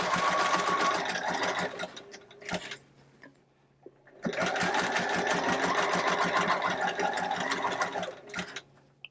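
Sewing machine stitching elastic casing on doll pants, a fast rhythmic whirring run of about two seconds, a short pause, then a longer continuous burst of rapid stitching lasting around four seconds, loud and close.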